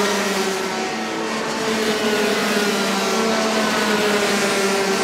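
Race cars on a circuit during a Gentleman-class qualifying heat produce a continuous, loud engine drone with steady overlapping tones, as if several machines run together at a distance.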